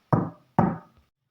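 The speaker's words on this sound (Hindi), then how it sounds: "तभी जोर से किसने दरवाज़ा पीटा।" Two heavy, loud bangs on a wooden door in quick succession, each a booming thud that fades out, then silence, set in a dark, stormy horror-story scene.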